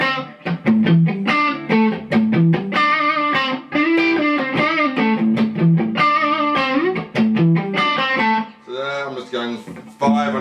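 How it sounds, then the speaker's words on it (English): Distorted electric guitar playing a rhythmic riff of sustained, buzzing notes and chords, loud and close, with a bending phrase near the end. "If I put a bit of distortion."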